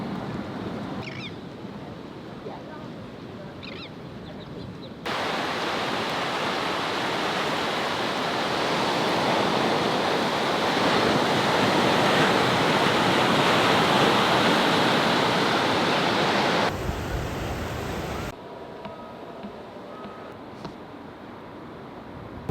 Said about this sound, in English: Nice short little trip to the beach, just walking on the beach.